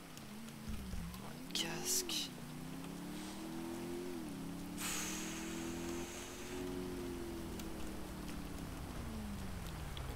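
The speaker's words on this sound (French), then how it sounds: "Oh putain, il pleut." Steady rain patters throughout under a droning vehicle engine whose pitch rises and falls, with brief nearby talk and a couple of sharp clicks.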